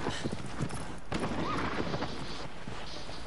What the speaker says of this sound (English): Get off this dumbass horse.